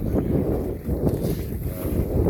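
Gusty wind buffets a microphone aboard a small sailing canoe on a tidal estuary in South Devon, a steady close roar of wind and water rising and falling in gusts with no voices.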